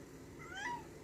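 A pet cat gives one short, faint meow that rises and falls, standing apart from quiet room noise.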